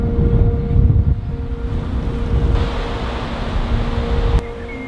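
Gusting wind of about 40 km/h buffeting a microphone windscreen outdoors, a loud rumbling roar that swells and eases continuously, close and dominating, with a steady low hum underneath.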